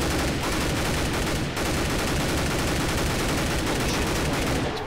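Dense, unbroken automatic gunfire from a 75-round weapon in a modded Left 4 Dead 2 match, loud and close, hammering without pause for several seconds.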